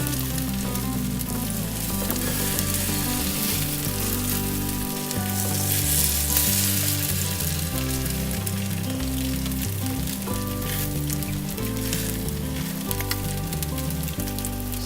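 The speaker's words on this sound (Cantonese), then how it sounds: "我哋一邊煎一邊喐喐佢啦" Flour-coated salmon fries in an oiled pan after being flipped, giving a constant loud crackling sizzle that runs unbroken and close throughout.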